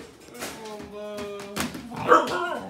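A dog nearby gives high, drawn-out whimpering whines mixed with short sharp barks, the cries rising and falling in quick succession.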